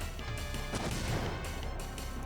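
A hand cannon fires in the Wild Arms video game battle, giving a single crashing blast followed by a brief rumbling tail.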